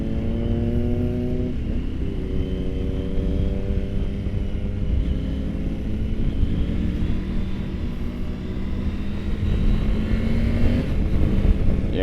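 2022 Triumph Tiger 900 motorcycle engine on a demo ride, a continuous droning exhaust note with pitch steps as it changes speed, heard over steady wind rush throughout.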